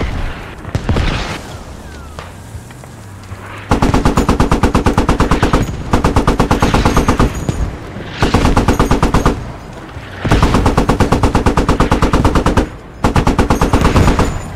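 Sustained automatic gunfire in the video game Squad comes in several long, loud, rapid bursts separated by brief pauses, with a fainter mixed battle sound at the start.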